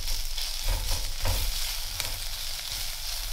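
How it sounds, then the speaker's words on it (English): Garlic frying in a hot frying pan while a county fair hot dog topping cooks: a steady, close, broadband sizzle with soft stirring scrapes and no talking. "So what I'm gonna do is add in the garlic."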